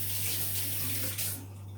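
Steady rush of tap water running into a kitchen sink while an onion is washed, loud and continuous, easing slightly near the end, with no voices.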